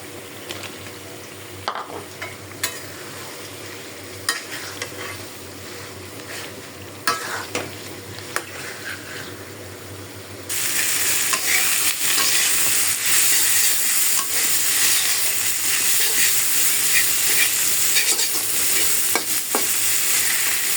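Leafy greens are tempered in a frying pan and stirred, with quiet scraping and clinks at first, then a louder steady sizzle as the frying picks up partway through.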